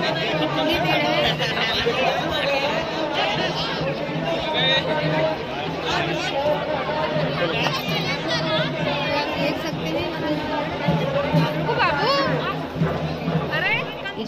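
A large crowd chatters continuously at a busy Durga Puja pandal in Lucknow, a steady dense babble of many voices, with children's voices and nearby talk mixed in throughout.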